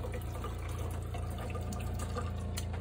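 Water running steadily from a tap in a 1990 Toyota Itasca Spirit motorhome, a continuous close splashing and trickling into a sink with a low background hum from the running water pump.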